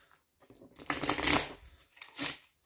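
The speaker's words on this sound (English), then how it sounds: "we give them a little shuffle, mix them up" A deck of playing cards shuffled by hand for a magic trick, two bursts of riffling and flapping paper, the first longer and louder, the second short, close by with no talk.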